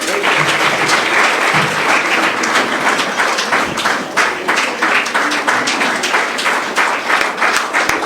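Audience applause at a felicitation ceremony for a Foundation Day celebration: dense, sustained clapping from a large crowd throughout, with a few louder individual claps standing out.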